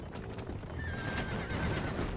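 Horse hooves clip-clop steadily in Red Dead Redemption 2, with a high whinny rising above them partway through; the game sounds are moderately loud with a steady background bed and no talking.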